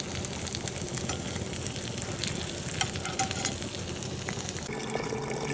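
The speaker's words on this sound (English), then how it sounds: "Grill some of your favorite dim sum items for about 5 minutes." Dim sum items grill in hot cooking oil with a steady, close crackling sizzle that runs throughout, sprinkled with small pops and light clinks of utensils.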